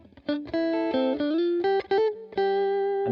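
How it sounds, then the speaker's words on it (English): An improvised pentatonic guitar phrase over a one-chord vamp, heard as a bright, effects-coloured electric tone picking a run of distinct sustained notes with short gaps, close and loud, with no talking. "So let's do a pentatonic idea"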